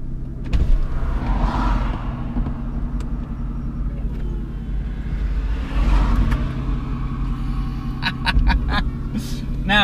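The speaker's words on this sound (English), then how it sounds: "V12s in a modern day supercar is something to celebrate and something to behold" Aston Martin Vanquish S Volante convertible with a V12 engine, a steady deep rumble close by that swells twice, with brief higher tonal notes near the end.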